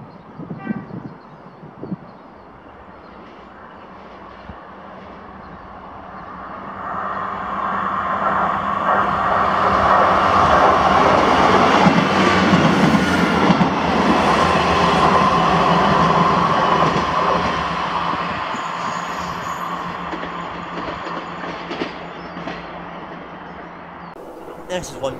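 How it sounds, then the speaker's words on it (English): A ScotRail passenger train bound for Elgin from Glasgow Queen Street passes at Blair Atholl, its rumble swelling from quiet to a loud, sustained roar with wheel clatter, then slowly receding. "this is 1H13, the 1622 ScotRail service to Elgin from Glasgow Queen Street."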